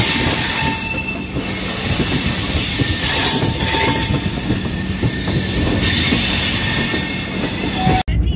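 Rajdhani Express train pulling away from platform 13 at New Delhi, wheels rolling and squealing on the rails, loud and steady close by for most of the stretch before cutting off abruptly at the end.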